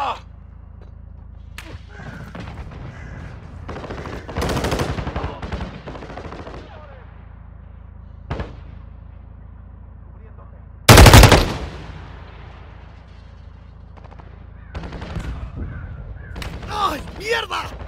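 Gunfire in the mobile shooter game Warzone Mobile during a team deathmatch: scattered bursts and single shots, one loud close blast near the middle, with voices talking and shouting over the game sounds.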